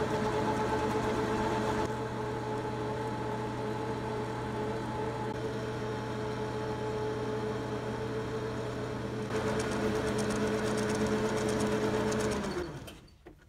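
A metal lathe turning slowly while diamond knurls are cut, fed by hand and lubricated with WD-40, gives a steady close hum with a faint grinding texture before spinning down at the end.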